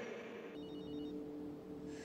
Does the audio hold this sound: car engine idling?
no